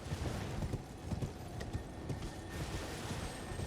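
Horse hooves clip-clopping at a quick gallop during mounted combat in a video game, a steady pounding rhythm up close with an occasional whinny and game noise layered over it.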